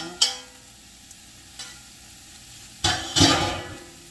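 Chopped onion tossed into a hot pan for seafood gumbo, a sharp sizzle flaring up briefly early on, then louder, sustained crackling bursts of frying near the end, close and clear with no talking.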